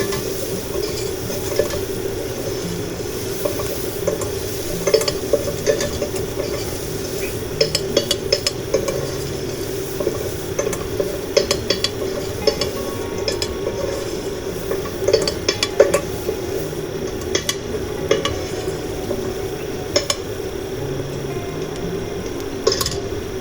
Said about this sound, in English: Now add the ginger and let the ginger cook.